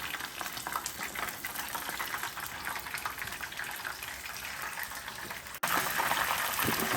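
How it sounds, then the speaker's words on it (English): Raw battered pieces frying fast in hot oil at a home kitchen stove, a steady dense sizzle and crackle held close and loud, briefly dipping then surging back louder near the end. "it doesn't take them very long to fry up"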